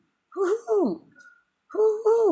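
A voice imitates an owl hooting, giving two drawn-out, wavering hoots separated by a short pause, loud and close with no other sound around them.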